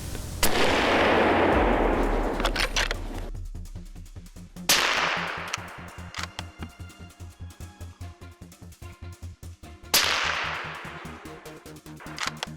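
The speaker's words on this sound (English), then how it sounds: "we fired off a rapid series of shots" Three loud gunshot blasts, each followed by a rapid string of quick, evenly spaced shots ringing out in the open.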